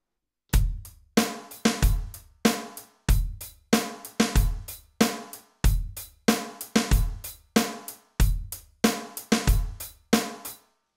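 Drum kit playing a grade 3 funk groove, crisp repeated kick, snare and cymbal hits in a steady syncopated rhythm, close and loud with clean decays between strokes.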